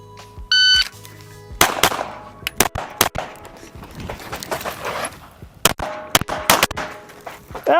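Pistol shots ring out during a competitive shooting practice stage in the Carry Optics division, a series of sharp, loud cracks in quick irregular bursts, with a few electronic beeps at the start and range noise between shots.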